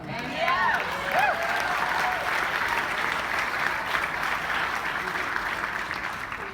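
An audience applauds steadily and fairly loudly at a talk, a dense wash of many hands clapping that holds for several seconds, with a few voices calling out near the start.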